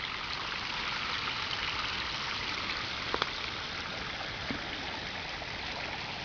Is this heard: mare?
no